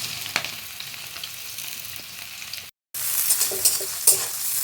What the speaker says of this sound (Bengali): কারণ গাজরটা সবসময়ই ভাজা হতে সময়টা বেশি নেয়।